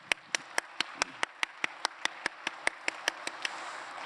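Clapping at a Korean church anniversary service, heard as a quiet, even train of sharp single claps in strict rhythm, about four or five per second, with no voices over it.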